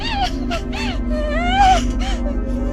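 A girl sobs and whimpers in close, wavering wails with short catching breaths, over a low steady background hum.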